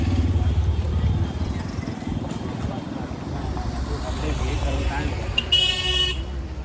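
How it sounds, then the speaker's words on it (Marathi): Busy road traffic near Ganpatipule in Konkan rumbles steadily with voices nearby, and a car horn honks once clearly near the end. "पाठीमागे खूप ट्रॅफिक आहे, खूप म्हणजे खूप ट्रॅफिक."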